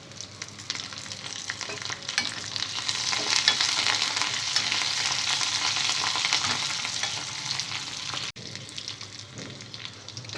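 Curry leaves and tempering seeds fry and crackle in hot oil in a pan while being stirred, a loud steady sizzle with scraping, alone without talk, dipping briefly near the end.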